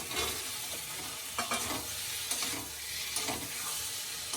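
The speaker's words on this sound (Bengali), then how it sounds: "এখন ভেজে রাখা আলুটা দিয়ে দেব।" Fried potatoes being stirred into cooked-down masala in a pan, with a steady sizzle of frying and repeated scraping stir strokes throughout.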